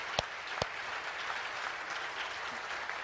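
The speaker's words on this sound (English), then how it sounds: "let's give Raj a big round of applause." An audience at a Proctor Gallagher Institute seminar applauds, a soft, even patter of many hands that fills the room, with a couple of sharp louder claps near the start.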